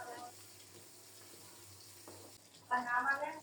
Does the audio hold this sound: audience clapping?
no